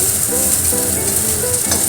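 Mustard seeds, dried red chilli and olives frying in hot mustard oil in a kadai for sour dal, giving a loud, dense, continuous sizzle heard close up with no voices.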